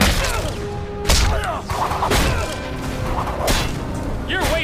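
Rapid gunfire from a Captain America film scene, sharp repeated shots and impacts over a busy action soundtrack, with someone speaking in between.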